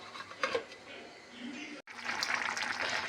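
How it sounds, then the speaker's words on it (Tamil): Water is poured into a cooking pot over pieces of citron. A first splash is followed by a brief stop, then a steady, hissing stream runs close by. "நார்த்தங்காய் மூழ்கும் அளவிற்கு தண்ணீர் ஊற்றி மூடி போட்டு வேக விடவும்"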